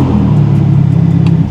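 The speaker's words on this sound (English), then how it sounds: "Do a quick rev." A 2024 Ferrari Spider with its stock exhaust revs briefly, a loud, close engine drone that holds steady for just over a second.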